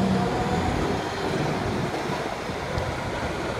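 An R77 New York subway train runs through the 38th Street Yard, giving a steady, broad rumble and rush of wheels on track. The noise is constant at mid distance, with no voices present.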